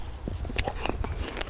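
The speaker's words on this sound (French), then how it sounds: "le plaisir de croquer la pomme" Short crunchy bites into a crisp red summer apple, a couple of close snaps within a second or so, with faint voice-like sounds in the background.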